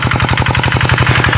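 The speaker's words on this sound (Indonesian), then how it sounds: "kita melihat cara mengolah lahan atau mentraktornya" A tractor engine thumps with a rapid, even chugging rhythm while tilling a cassava field, close and loud with a rattly clatter, no voices.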